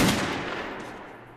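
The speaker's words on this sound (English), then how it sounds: "I never actually used this pistol." A single pistol shot in the video game Metro Last Light, a loud sharp crack at the start that decays into a fading reverberant tail with no other sounds.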